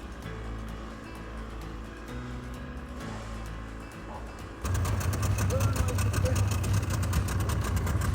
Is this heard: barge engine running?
yes